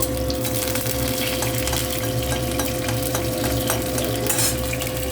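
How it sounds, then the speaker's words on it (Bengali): Nigella seeds and green chillies fry in hot oil for a rohu fish curry with tender pumpkin while a utensil stirs them, a constant dense sizzle over a steady low hum, close and even throughout. "এখন এই যে কালো জিরা দিচ্ছি, সামান্য কালো জিরা দিয়ে দিলাম"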